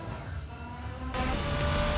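Engine of a race car in the 2004 action movie Torque, speeding with a steady loud roar that swells suddenly into a fuller, brighter burst of acceleration partway through.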